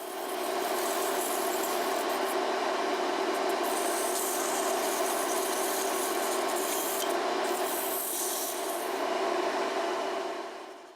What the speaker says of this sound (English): It's now time for sanding.